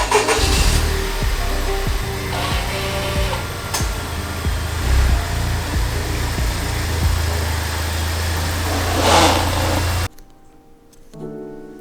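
A Honda Civic Type R FK8 idles steadily and close by while being pulled in, a low engine drone with faint clicks that cuts off sharply near the end, leaving quieter background noise.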